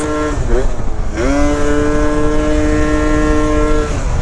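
A Yamaha Zuma / BWS scooter engine whines at speed in a loud, steady drone, its pitch dipping twice early on and then holding even as the ride continues.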